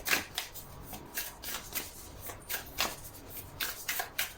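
Tarot cards are shuffled and drawn by hand in quick, soft riffling bursts that repeat in an uneven rhythm, close and quiet with no voices.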